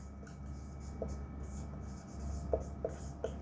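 Hand writing of a definition during a Class 10 maths lesson, with faint scratchy pen or chalk strokes and a few light taps over a steady low hum, no talk.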